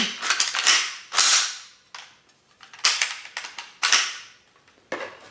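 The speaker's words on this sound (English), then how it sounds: "now we function test it" A MarColMar CETME L rifle's action is function tested by hand: a series of sharp metallic snaps and clacks from the bolt and trigger, several close, loud bursts separated by short pauses, with no talking.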